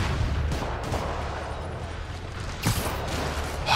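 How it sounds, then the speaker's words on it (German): Gunfire aimed at Spider-Man in the video game Spider-Man Remastered, a dense, continuous rumble of shots and blasts with a sharper burst near the end, loud and busy throughout. "Warum schießen eigentlich immer alle auf mich?"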